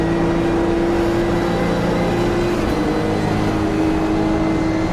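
A Nissan GT-R engine in a racing game drones at steady revs: a constant, loud, buzzy hum with a fixed whine on top that barely changes for the whole stretch, with no talk.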